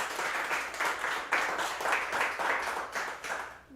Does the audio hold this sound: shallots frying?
no